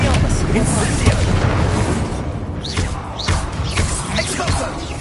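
Incendio fire spell cast during Hogwarts Legacy combat: dense, continuous whooshing bursts and booming impacts layered with other spell effects, with short rising swooshes throughout.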